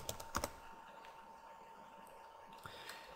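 Fingers tap keywords on a computer keyboard in a few quick clusters of faint clicks, quiet and close, with a near-silent stretch in the middle.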